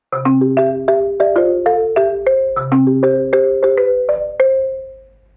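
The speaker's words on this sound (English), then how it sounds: "starting with the marimba." Bright wooden mallet tones play a lilting melodic phrase, each note struck cleanly and ringing briefly, repeating the pattern before a final note fades out alone.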